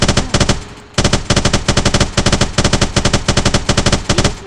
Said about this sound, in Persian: این همون اسنایپر فکر کنم